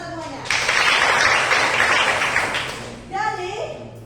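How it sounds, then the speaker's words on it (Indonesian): A class applauding during a Christian ethics lesson, a burst of dense clapping that starts abruptly, holds for a few seconds and fades, with a voice speaking briefly before and after. "Tepuk tangan semuanya."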